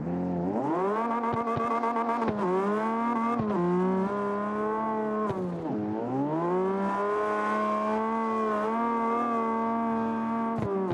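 A Toyota Supra takes off on a qualifying run through a city street course at night, its engine loud and close, revving up and down through gear changes in a continuous strained howl with brief dips between shifts.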